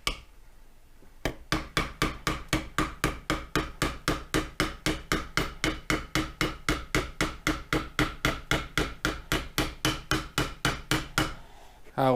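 Steady hammer taps drive a seal into a Ford 9 inch rear end during a ring and pinion rebuild, about three dozen sharp, evenly spaced metallic knocks close up after a short quiet start.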